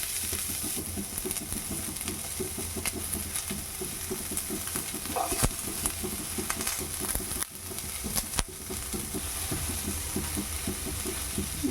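Onions frying in a pan at a festival home cooking session, a steady close sizzle with rhythmic stirring scrapes throughout and a couple of brief sharp clatters.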